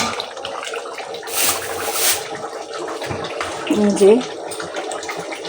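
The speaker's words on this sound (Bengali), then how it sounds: "চাল ধুয়ে রাখছি" Rice being rinsed in water in a home kitchen during a power cut, a splashing, running-water wash that swells for about a second, with a brief spoken word.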